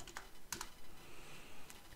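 Keystrokes on a computer keyboard while entering data into an Excel spreadsheet: a few separate clicks and short bursts of typing, close and fairly quiet, with no speech.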